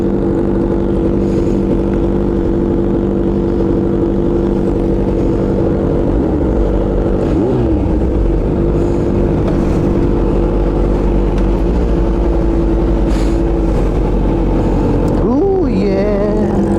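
A motorcycle engine idles and revs while being warmed up, its steady low drone loud and continuous with a few brief throttle swells near the end and faint voices in the background.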